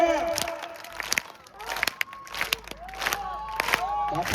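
An audience claps along to a Gujarati devotional song for Maa Meldi, with sharp, somewhat irregular claps mixed with singing voices and crowd noise at moderate distance.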